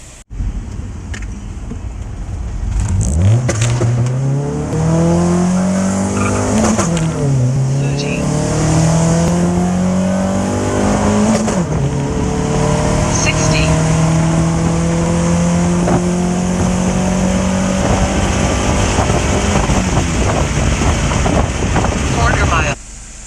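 An all-motor Honda D16 car accelerates hard on a quarter-mile drag strip, its engine note climbing through several gear changes, loud and sustained with wind rushing over the microphone.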